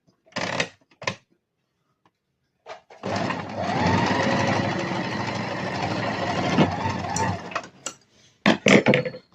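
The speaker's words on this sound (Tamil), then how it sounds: "இப்போ நான் ஸ்ட்ரெயிட்டாக ஸ்டிச் பண்ணுறேன்." A fashion maker sewing machine stitching a straight seam runs in a loud continuous mechanical whir for several seconds, bracketed by short bursts of starting and stopping.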